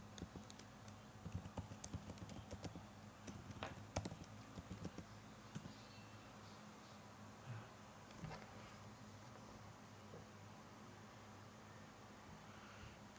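Keys clatter on a computer keyboard in quick, uneven bursts, faint against a steady background hum, with clusters of taps early on that thin out to sparse clicks later.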